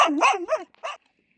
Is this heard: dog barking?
yes